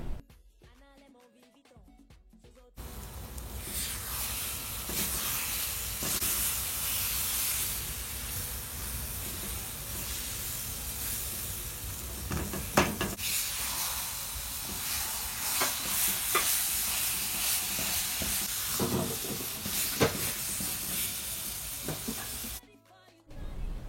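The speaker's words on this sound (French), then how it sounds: "renversez la purée obtenue dans une poêle et portez au feu moyen en remuant régulièrement" Avocado purée being stirred in a pan over medium heat while it is cooked down to make homemade avocado oil. A steady hiss and sizzle carries on with scattered scraping stir sounds, close and continuous for about twenty seconds, with no talking.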